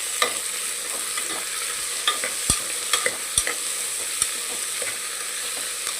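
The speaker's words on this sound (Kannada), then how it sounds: "ಎಣ್ಣೆ ಒಳಗೆ ಚೆನ್ನಾಗಿ ಬೆನಿಬೇಕು ನೋಡ್ರಿ" Carrots, beans and peas fry in oil for a vegetable pulao, a steady close sizzle punctuated by several sharp spatula scrapes and taps against the pan as they are stirred, with no talking.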